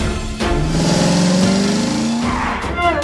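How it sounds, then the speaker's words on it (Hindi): A cartoon shark car races at full speed chasing a blue mixer through city streets: a loud, close engine whine climbs steadily in pitch amid tire squeal, then cuts off and kicks in again. "हवाल शार्क कार अब जमीन पर उतर आई है और पूरी रफ्तार से उस नीले मिक्सर का पीछा कर रही है।"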